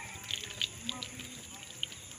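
Water pours steadily over a drainage drop point, a constant soft rush with a few faint splashy drips on top, heard at a distance beneath low background sound.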